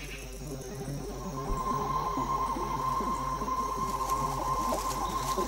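Crickets chirp in a Madagascar forest, a steady high buzzing trill running throughout under a dense bed of other insect and ambient noise, moderately loud and continuous.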